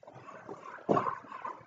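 A dog whimpers and whines briefly in a room where men are lighting cigars, a short close nasal whine with a sharper yelp partway through.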